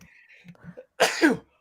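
A single sneeze from a person on a podcast, a sharp loud burst with a short tail, close to the microphone, following some quiet muffled talk.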